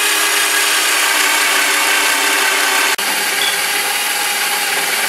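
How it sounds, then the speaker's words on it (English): A power drill with a 3/4 inch spade bit bores holes through wood for electrical wiring, giving a loud, continuous, rough grinding whir with one brief dip in the middle and no voices. "I'm using a 3/4 inch spade bit."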